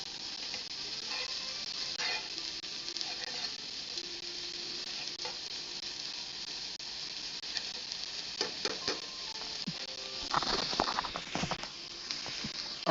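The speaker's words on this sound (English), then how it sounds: "See that sizzle there? That's what you want." A steady, soft sizzle of greens frying in a pan, with occasional clinks and scraping stirs growing busier toward the end.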